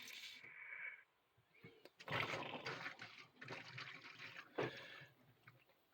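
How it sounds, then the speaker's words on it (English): Air gurgling out of a cabin's water pipes after the pump is shut off, irregular wet sputters and splashy bursts that start and stop over several seconds, fairly close and loud in places. "So you can hear that little gurgly. That's just air now coming out of the system."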